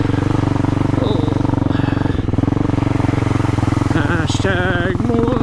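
A Honda CRF250L motorcycle ridden around a creek, its engine droning loud and steady from start to finish, with a slight rise and shift in tone near the end and no talking over it.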